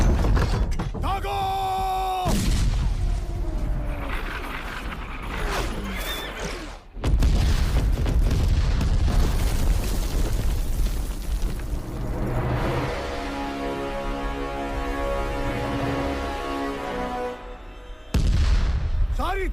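Booming blasts of cannon fire in a battle scene from the film Panipat, mixed with horse whinnies, shouting voices and a chaotic battle din, with a loud impact near the middle.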